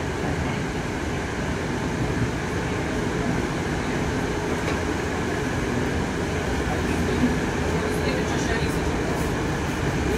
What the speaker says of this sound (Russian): Поезд снимаю.